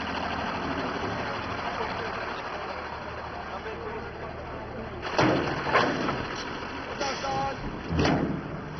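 A bus engine idles with a steady low rumble as prisoners arrive at a privately run prison, and a few louder bumps and voices cut in near the end.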